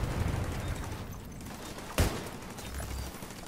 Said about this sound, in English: I'm gonna pull my sniper out and snipe this fucker.